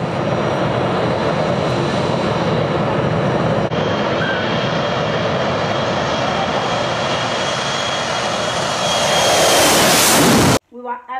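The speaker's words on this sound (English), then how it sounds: "The plane started." A passenger airplane's engines roar loudly and continuously during takeoff, the steady rumble swelling and brightening toward the end before cutting off abruptly into a few faint sounds.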